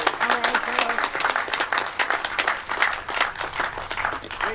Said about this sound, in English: So let's give Doug a big round of applause.